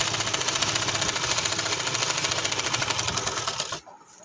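A sewing machine stitches trouser fabric in a fast, steady mechanical chatter that runs loud and close for nearly four seconds, then stops abruptly into near silence.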